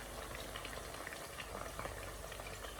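Pieces of beef for crispy chilli beef fry in a pan of hot oil, giving a steady, faint bubbling sizzle with small crackling pops throughout.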